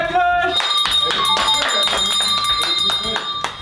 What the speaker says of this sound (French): C'est beau parce qu'il y a eu la cloche.